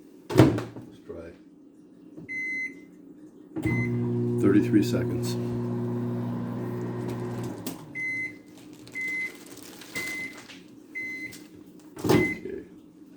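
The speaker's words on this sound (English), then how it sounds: "And so, sandwich goes in the microwave." A microwave oven heats a cheese sandwich, its door clunking shut before a steady electric hum runs for several seconds, followed by repeated short beeps and the door opening, while a person speaks briefly.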